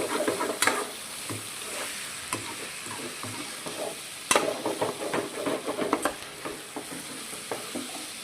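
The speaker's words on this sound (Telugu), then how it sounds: "చూడండి ఫ్రై అవుతుంది." Chicken pieces fry spicy in a pan with curry leaves, a steady close sizzle broken by sharp scrapes and clatters as the meat is stirred and turned.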